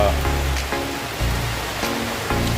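Steady rain pours on a rainy morning as floodwater rises, a broad, continuous hiss that holds through, with a voice talking underneath.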